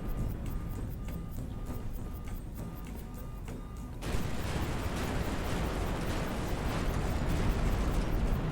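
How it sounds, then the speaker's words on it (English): An ammunition explosion rips through a warship in High Fleet, a sudden loud burst that breaks over mechanical beeping and becomes a sustained roaring, crackling rumble. "there's an ammo explosion"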